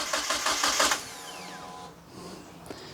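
An engine cranking over in rapid, even pulses while someone tries to start it, loud and close, then dropping away into a fading whine and quiet.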